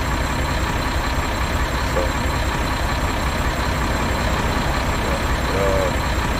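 Truck engine droning steadily in American Truck Simulator, a 2019 Mack Anthem or Kenworth T880, a constant low rumble that fills the whole stretch at even loudness, with a brief spoken word near the start.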